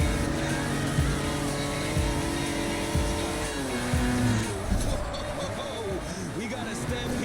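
Cars race in an Xbox 360 driving game played through an emulator on PC: engine drones rise and fall in pitch with tire squeals and whooshes, mixed with game voices over a continuous backdrop.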